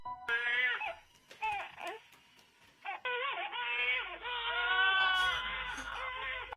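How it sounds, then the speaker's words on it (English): Infant crying heard through a baby monitor in a kitchen, a series of loud, wavering wails with brief pauses between bursts, alone without talk. "her baby monitor alerts her of her child crying"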